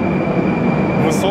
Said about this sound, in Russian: Наше великое московское метро.